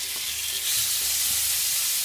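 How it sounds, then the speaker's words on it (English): Scallops sear in a hot pan that already held salmon, giving a loud, steady, bright sizzle with a few light stirring scrapes underneath, no voices present. "we're just going to give our seafood a quick sear before we pop it into our sauce"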